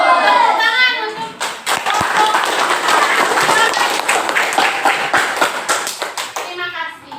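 Children in a classroom clap together in a dense burst of applause lasting several seconds, with young voices chattering beneath it and an adult voice speaking at the start and end.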